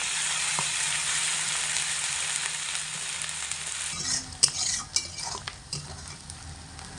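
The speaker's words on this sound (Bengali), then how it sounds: "এবার এগুলোকে পেঁয়াজের সঙ্গে ভালো করে একটু ভেজে নেব" Chili paste with onions, ginger and garlic sizzles loudly in a pan with a steady hiss, which eases into a scraping stir with clinks of a utensil.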